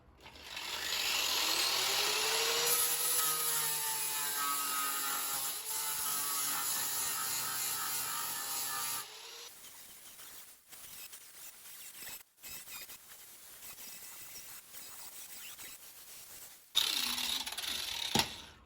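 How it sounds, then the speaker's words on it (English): An angle grinder grinds down welds on sheet metal during a car wheel arch repair, giving a loud, steady, whining roar for about nine seconds, then quieter scraping and handling, and a short final burst. "You've got to do the same with the grinder as you do with the welder."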